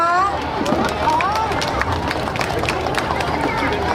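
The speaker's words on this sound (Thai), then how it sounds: "ขอเสียงปรบมือด้วยนะคะ" A concert ceremony audience applauds steadily, broad clapping mixed with crowd murmur, while a voice rises and falls over it early on.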